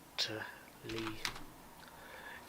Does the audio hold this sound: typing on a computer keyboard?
yes